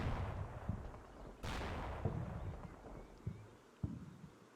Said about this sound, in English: there's some mortar bombs going in there